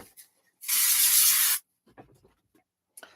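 A single spray-can burst, about one second of loud, close hiss, coats a scenic card-making layer on a 6x6 card blank. Faint handling taps and rustles follow.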